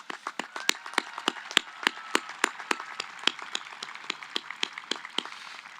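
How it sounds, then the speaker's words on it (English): Sparse claps from a small audience at a military school graduation ceremony for the class of 2021: distinct, sharp hand claps in a quick irregular rhythm, fairly faint and slightly distant, with no talk over them. "Give them a round of applause."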